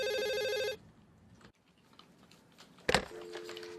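A telephone rings in an office, heard as a loud electronic ring that cuts off after under a second, then quiet room noise, a sharp clack and a second, fainter ring starting.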